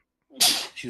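A single sharp sneeze bursts out close to the microphone after a moment of silence, followed by a brief softer voiced tail as a person reacts.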